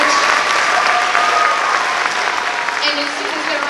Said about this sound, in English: let's give those kids a round of applause